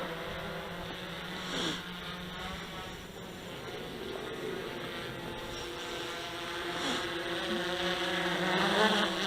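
A DJI Inspire drone fitted with a modded battery flies with a continuous, insect-like buzzing whine at moderate distance, swelling slightly louder toward the end.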